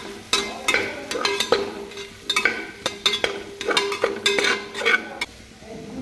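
A spice mixture with black masala being sautéed in a pan, a utensil scraping and stirring in repeated sharp clinks and scrapes over a soft steady sizzle, close and fairly loud.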